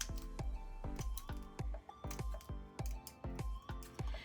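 Scissors snip repeatedly through a synthetic wig in a steady run of crisp close cuts, about a dozen sharp clicks with short pauses between them.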